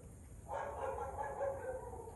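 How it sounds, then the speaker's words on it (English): Neighbor's dogs bark at a distance, a faint sustained run of barking outdoors with low background noise. "Anyways, ignore the dogs."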